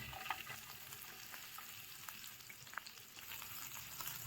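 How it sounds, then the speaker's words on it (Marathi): Onion frying in hot oil for a fish masala gravy, a faint, even crackle and hiss continuing steadily with small pops scattered through it. "ऑइल आपलं चांगलं गरम झालं आहे. याच्यामध्ये आपण आता कांदा ॲड करूया."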